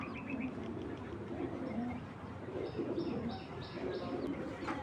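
Racing pigeons cooing softly in a loft, repeated low coos layered with a few brighter chirps over a steady background hum, moderately faint.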